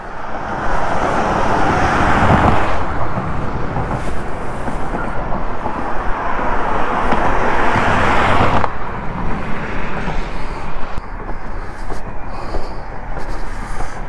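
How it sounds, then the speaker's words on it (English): Cars crossing near the floodgates at Whitney Lake pass close by in a loud, continuous roar of tires and engines, swelling and easing as vehicles go past, with no talking. "Kind of unnerving with the cars coming across."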